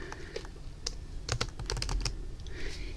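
Quick bursts of keystrokes clatter on a computer keyboard, uneven in rhythm and close up, with no one talking.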